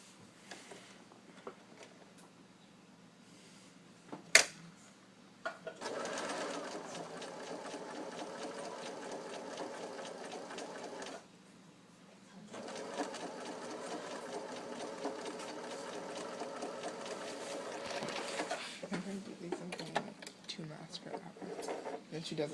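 A sewing machine stitches in two long continuous runs with a short pause between them, basting the cap of a set-in sleeve, with light handling sounds around the runs.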